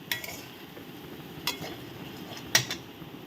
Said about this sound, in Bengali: দিয়ে এটাকে ভালো করে কষিয়ে নেব।